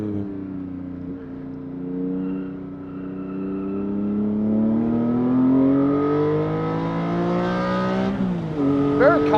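A Porsche 718 GT4 with an M Engineering tune runs on a race track, its flat-six engine droning and climbing steadily in pitch under load, then dropping briefly at a shift before revving again, loud and close.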